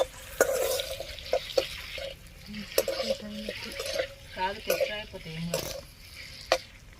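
Salt, turmeric and chili powder are stirred through in a frying pan while cooking egg curry, giving soft repeated scraping and light sizzling with scattered clinks, under intermittent talk.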